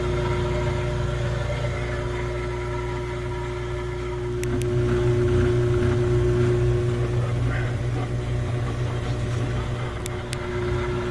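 A Frigidaire laundry center washing machine motor spins steadily with a loud continuous hum and whir while the transmission fails to turn, droning on with a couple of faint clicks.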